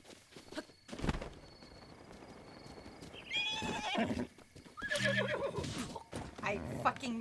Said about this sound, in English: Zelda horsey.